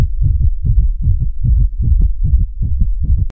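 Heartbeat sound effect pounding fast, a steady run of loud, deep double thumps repeating evenly for a few seconds before cutting off abruptly.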